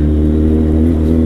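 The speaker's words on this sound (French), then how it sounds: "Le son du 4 cylindres, c'est tout simplement magique, quoi." A Kawasaki Z800 four-cylinder motorcycle engine running with a smooth, steady low rumble, close and loud, holding an even tone through a brief stretch with no voices.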